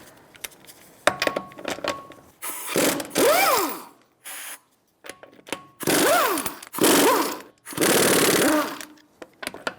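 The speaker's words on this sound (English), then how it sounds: "Now we're going to be taking off our wheel. I'm going to use a 21mm socket." A power wrench with a 21mm socket spins lug nuts off the front wheel of a 2007-2012 Nissan Altima, firing loud rattling bursts with rising whines, separated by short pauses and clinks.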